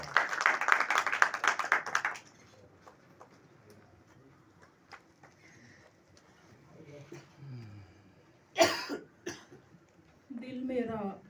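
An audience at a poetry gathering applauds poet Gulnaz Gul, a dense burst of clapping for about two seconds that then fades to quiet, with scattered coughs and a voice speaking later.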